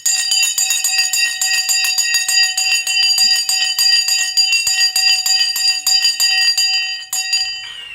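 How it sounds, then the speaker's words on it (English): A bright metallic bell rings loudly and rapidly in a fast, continuous trill for about seven seconds, then stops abruptly and leaves a short fading ring-out. "Oh, I missed the bloody bell."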